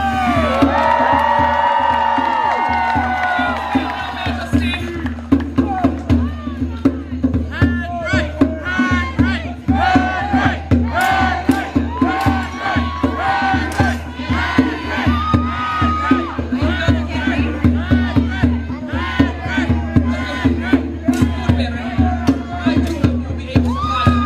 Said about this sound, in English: A cheer for Henry!